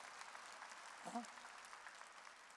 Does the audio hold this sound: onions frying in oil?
no